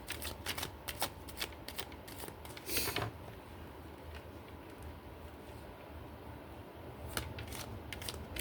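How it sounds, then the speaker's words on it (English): Gaia oracle cards being shuffled by hand, a steady papery riffling and flapping close by with a few sharper snaps, heard alone without talking. "We're going to pull from the Gaia cards."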